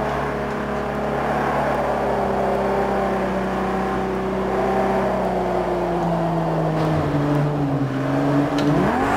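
A Ferrari 250 GT engine drones steadily in a racing simulator game, its pitch sliding down and briefly blipping near the end as the car downshifts through the gears, continuous and close with no voices.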